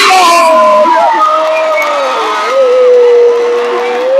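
Spectators at an under-21 world championship beach volleyball bronze match between Brazil and France cheer loudly and continuously, with high whoops and sustained shouting voices from a large crowd close around.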